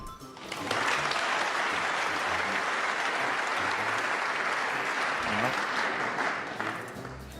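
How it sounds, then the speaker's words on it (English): A snooker crowd breaks into a round of applause, a steady, full wash of clapping that swells in after a brief quiet start and holds for several seconds before easing off, with faint voices beneath. "We got a round of applause before he played the shot"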